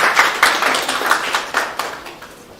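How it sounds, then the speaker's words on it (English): A small conference audience claps briefly, producing a light, uneven patter of hand claps that fades out over a couple of seconds with no talking. "You can give him a round of applause."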